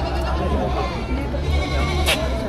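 Goats bleat amid the bustle of a Padre Garcia, Batangas livestock auction, where three native-type goats, two males and a female, are offered; a short cry rises over steady crowd chatter and background noise.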